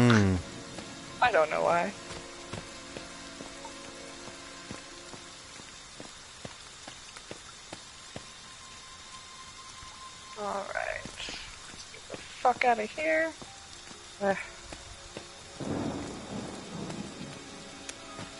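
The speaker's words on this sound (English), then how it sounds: "it's actually raining and it's raining in the map" A steady hiss of rain with low rumbles of thunder plays through a dark, rainy video game map, while a few people talk in short bursts over the storm.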